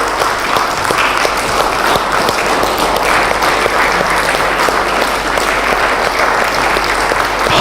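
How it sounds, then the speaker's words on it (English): Loud, sustained applause from an audience at a motivational talk, dense steady clapping filling the room throughout with no speech on top. "Please give a big round of applause for him"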